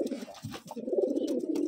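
Murshidabad Giribaz pigeons coo close by, a soft, low, throaty burbling that rolls on continuously in a quiet indoor space.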